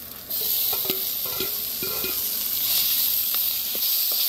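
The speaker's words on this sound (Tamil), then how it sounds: "வெங்காயம் எல்லாமே நல்லா வதக்கி வச்சு" Onions and garlic sauté in a pan with a soft, steady sizzle, broken by several distinct scraping strokes of a stirring utensil, fairly quiet and close, with no voices.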